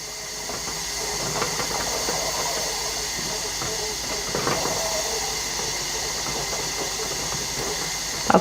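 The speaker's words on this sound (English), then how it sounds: "there was just too much steam being released here for me" A steady, broad hiss of steam escaping from a pressure canner runs continuously at moderate volume, with faint clicks and rattles underneath.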